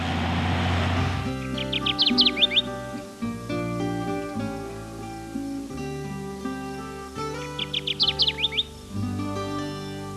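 Two short bursts of high, rapid Kirtland's warbler song chirps, a few seconds apart, over steady background music.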